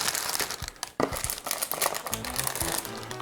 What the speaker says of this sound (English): Packed in these cellophane wrappers.